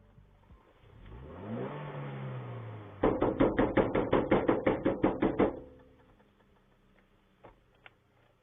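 A truck engine revs on a rising, swelling pitch for a couple of seconds, then gives way to a rapid series of about a dozen loud, evenly spaced knocks. The engine sound fades into a quiet idle with a few faint ticks.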